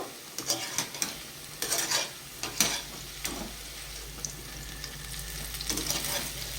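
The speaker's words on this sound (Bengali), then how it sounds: "বেশ মুচমুচে করে ভেজে নেব তিতে শাকের চপ বড়া পকোড়া" Fritters of bitter greens sizzle in a karahi of hot oil while they are turned. A steady frying hiss runs throughout, broken by sharp bursts of stirring and scraping.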